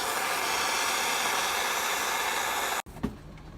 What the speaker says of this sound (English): We got the torch, lightening up the bolts from the bottom so we don't hit the wires